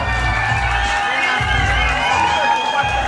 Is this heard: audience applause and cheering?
yes